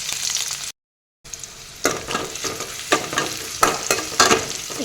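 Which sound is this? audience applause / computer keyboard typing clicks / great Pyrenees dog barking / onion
onion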